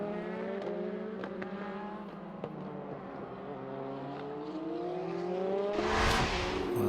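Endurance prototype and GT race cars at the 2016 WEC 6 Hours of Circuit of the Americas, Austin, howl past at speed, layered engine tones rising in pitch with a loud closer car sweeping by near the end.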